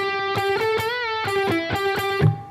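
Distorted electric guitar playing the riff from a song, a chugging run of sharply picked notes with a bent note in the middle, close and loud, no talking.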